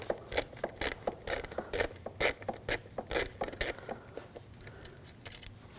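Ratcheting a T20 socket to remove wiring harness screws on a 2006-2009 Audi S4 4.2L V8, a close series of quick rhythmic clicks in bursts that fade toward the end.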